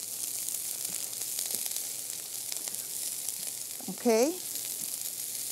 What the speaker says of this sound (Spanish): Así que la vamos a poner a sofreír.